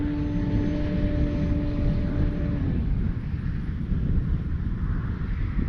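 E-flite Carbon-Z T-28 RC plane flying slowly overhead into the wind, its electric motor giving a steady whine that drops in pitch partway through, mixed with constant wind rush at the microphone.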